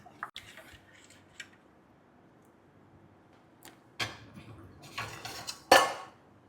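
Flour batter stirred in a metal pot, with a few scattered clinks and scrapes of a utensil against the pot, some louder bursts near the end, over a quiet background without speech.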